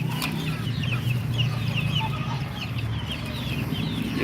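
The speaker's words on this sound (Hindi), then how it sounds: "ये मुर्गियाँ सफ़ेद, ये मुर्गा बड़ा ख़ानदानी निकल रहा है।" White hens and a young rooster of good breeding cluck and chatter steadily at close range, with quieter bird calls scattered through a continuous low farmyard rumble.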